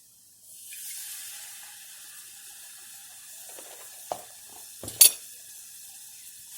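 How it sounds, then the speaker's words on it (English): A whisk works milk into a Greek moussaka sauce in a pan, giving a soft, steady swishing hiss that ends in a few sharp metallic clinks against the pan. "We're slowly going to whisk this."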